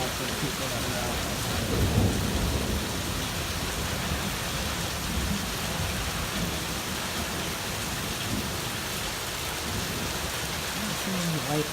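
Heavy rain pours steadily throughout a thunderstorm on the Pacific Crest Trail, with a dense, loud roar and a low rumble of thunder swelling near the start.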